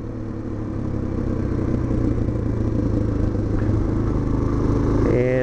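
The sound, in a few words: Suzuki DR-Z 400 SM motorcycle engine while riding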